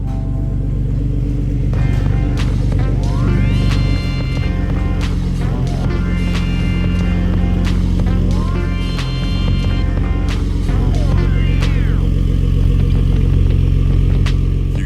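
Ford F-150 pickup with a 3.5 EcoBoost engine and a custom-built exhaust, rumbling loudly and steadily up close, with several rising and falling revs of the throttle over a deep continuous drone.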